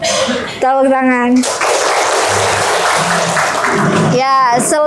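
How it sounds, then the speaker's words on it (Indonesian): Classroom applause during a teaching practice session, a dense burst of clapping filling most of the moment between bits of voice. "Tepuk tangan."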